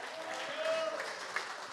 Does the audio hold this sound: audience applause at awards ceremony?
yes